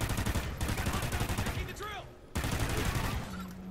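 Maverick rifle fire in Call of Duty: Ghosts Extinction mode comes as rapid, repeated gunshots with dense game action layered over them, running nearly continuously with a brief pause midway.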